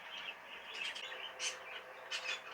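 Small cage birds in breeding cages inside a shed chirp and tweet in short bright bursts, several calls spaced across the moment, fairly faint against a quiet room.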